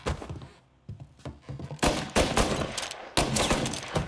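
Gunfire in the Mafia remake video game: rapid bursts of loud, close shots, broken by short pauses and then resuming in clustered volleys.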